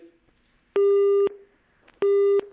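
A telephone busy signal after a dropped call-in to a farmers' advice phone-in programme: two loud, steady beeps, each about half a second long, separated by a short quiet gap.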